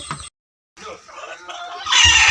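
A chicken clucks close by in short bursts, with a brief silence in between and a louder, rougher call at the end.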